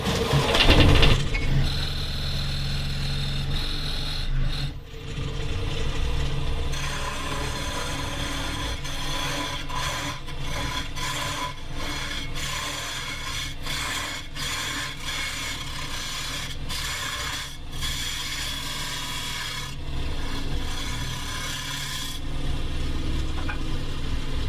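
Woodturning lathe cutting a recess in a beaded wooden platter with an Easy Wood Tools negative-rake beading cutter, giving a steady scraping, rasping hum broken by short repeated cuts, loud and close throughout.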